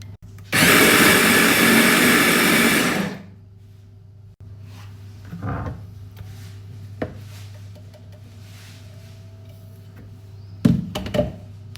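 A kitchen blender whirs loudly for about three seconds, pureeing a mixture with a red onion, then cuts off, leaving a low hum and a few clatters and knocks.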